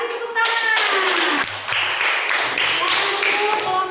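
Schoolchildren in a classroom clap their hands together in a burst of applause lasting a few seconds, mixed with voices and chatter from the group.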